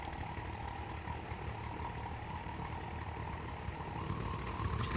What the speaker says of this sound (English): Just heating up the forge here, getting it blowing.